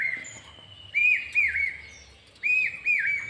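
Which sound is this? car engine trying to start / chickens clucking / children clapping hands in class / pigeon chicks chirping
pigeon chicks chirping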